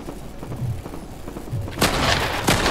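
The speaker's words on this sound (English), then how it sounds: "It's the Monarch pistol." Monarch pistol shots in a video game: a couple of sharp, bright bursts near the end of a short stretch of muffled game noise.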